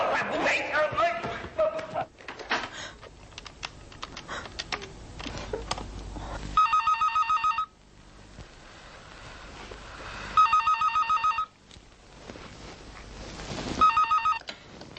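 A telephone rings in three bursts of rapid bell trills, separated by pauses, with speech and clatter before the first ring.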